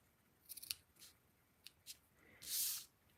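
Scissors cut paper for a card-making craft, giving a few quiet, close snips and one longer slicing cut, with no talking.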